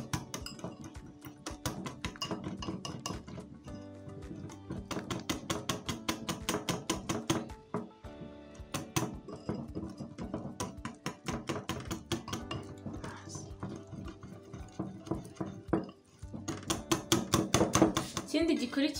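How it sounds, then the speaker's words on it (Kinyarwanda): Eggs and a little flour are beaten in a bowl with a utensil, rapid rhythmic clinking and tapping strokes that continue steadily in bursts, fairly close, with no talking. "dukubitire muri ano magi."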